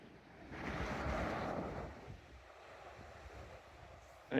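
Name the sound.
waves on the beach near Nusa Penida harbour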